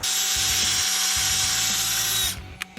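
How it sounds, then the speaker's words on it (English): A steady high-pitched whine of a power drill boring into a steel bolt while disassembling a Cletrac roller, close and loud, the motor pitch wavering slightly before it stops abruptly. "by doing each drill bit one at a time, I'm slowly getting the hole larger"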